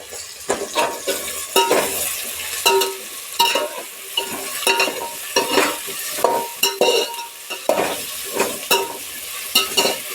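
Onion, tomato and drumsticks roast in a pan for a Maharashtrian Bhogi mixed vegetable curry, with a loud sizzle and brisk, repeated spatula scrapes and clanks throughout and no talking.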